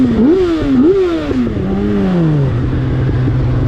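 A Yamaha FZ1S motorcycle engine revs up and down a couple of times, then settles into a throaty idle, loud and close with no talking.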